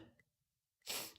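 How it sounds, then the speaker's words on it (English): A single sharp sneeze bursts out near the end after a short quiet pause, preceded by a soft breath. "We got the sneeze going."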